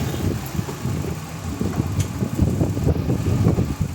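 A Mitsubishi Mirage engine runs at a steady idle while the car creeps forward a short distance in a mechanic's workshop, a low continuous rumble heard close and alone.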